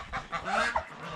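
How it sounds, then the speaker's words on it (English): Domestic ducks in a yard give brief, loud honking calls, a short burst of overlapping nasal honks close to the microphone. "Oh, come on, ducks."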